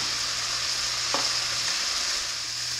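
Mushroom pasta sauce simmers and reduces in a single pan, giving a steady close sizzling hiss throughout, with one brief utensil scrape partway through and a low hum underneath; nobody speaks.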